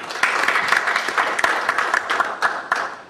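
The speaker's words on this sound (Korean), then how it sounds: "홍경표 상무님께 큰 박수로 강의를 부탁드리겠습니다." An audience claps for a lecturer about to speak at a healthcare seminar, a short burst of close, crisp hand claps with some irregular individual strikes standing out.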